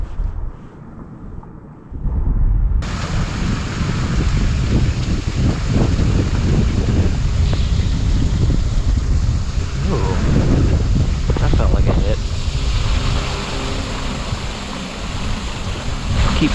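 Heavy wind gusting across a winter pond in New Jersey, a steady loud roar buffeting the microphone throughout, quieter for the first couple of seconds before surging up and holding strong.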